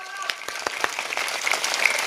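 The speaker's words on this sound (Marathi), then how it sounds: "फक्त टाळी वाजवा, फक्त टाळी जोरात." An audience at a Marathi kirtan claps hands in quick, fairly loud bursts, with voices mixed into the clapping.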